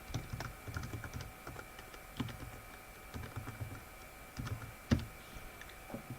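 Quick, uneven keystrokes on a computer keyboard clatter at close range as a nickname is typed in for a game, alone, with no voices and a faint hum underneath.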